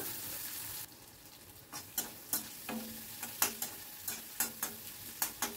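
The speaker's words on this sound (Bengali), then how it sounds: "অনবরত কিন্তু নাড়তে হবে, গ্যাসের ফ্লেমটা মিডিয়াম টু হাইতেই রেখেছি এখনও" Onions fry in a pan over a medium-high gas flame with a continuous close sizzle, punctuated by a steady run of crisp spatula scrapes and taps as they are stirred.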